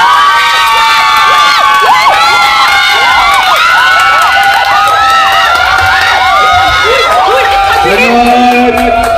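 A loud crowd at a family day and send-off party cheers, whoops and claps for a group of performers, with shrill children's voices and shouting throughout.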